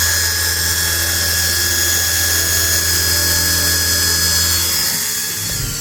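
A Harry Potter Snitch toy's small motor whirs in a steady, close high-pitched buzz, holding evenly before easing slightly at the end.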